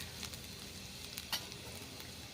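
Ginger and garlic sizzling in hot oil while being sautéed for a veg Manchurian tempering, a steady soft frying hiss with a few faint stirring clicks and scrapes, no talking.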